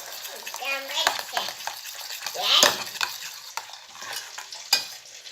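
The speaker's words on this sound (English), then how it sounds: "So you start to mix it." Turmeric powder and other spices being stirred in a hot pan, with scraping strokes over a steady sizzle and brief faint child-like voices in the background.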